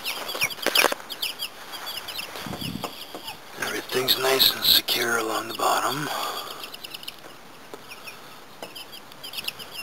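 Chickens cluck and call in a backyard chicken yard beside a coop under construction, with someone talking over the soft, scattered clucks close by.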